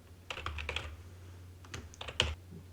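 Keystrokes on a computer keyboard while entering a value into a scripting tool, a few quick irregular clusters of clicks with pauses between, close and fairly quiet over a low steady hum.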